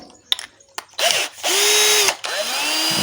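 A power drill running in bursts while a JTD 8V diesel engine is taken apart: a short spin-up, then two longer whirring runs with rising and falling pitch, close and loud.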